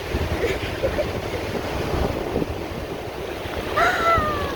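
Wind buffets the microphone over a low, rushing wash of Atlantic Ocean surf on the Outer Banks, with a brief voice-like sound near the end.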